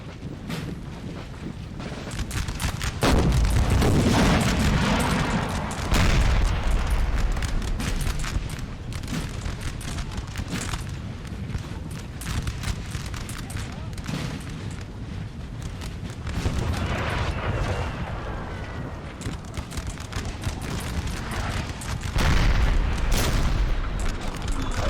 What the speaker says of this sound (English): the artillery from France is just obliterating their